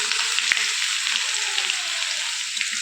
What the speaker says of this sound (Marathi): तेल छान गरम झालेलं आहे आता आपण मोहरी जिरं लसूण मिरची तेल